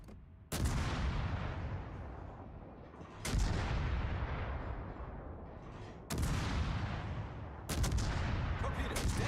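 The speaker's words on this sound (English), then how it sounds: "Anti-aircraft gun crews are on normal alert." Anti-aircraft guns fire in a naval warfare video game, four heavy booming volleys, each a sharp crack trailing into a long rumbling roar, spaced a few seconds apart.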